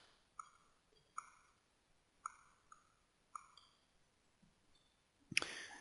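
Calculator keys pressed one at a time, five crisp plastic clicks spaced about a second apart in a quiet room, followed by a louder, harsher clatter at the end.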